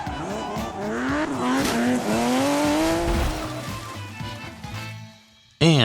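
Car from the Return to Silent Hill movie driving toward a lake, a loud close engine roar with squealing, skidding tires that builds and then cuts off, ending in a sudden burst of noise.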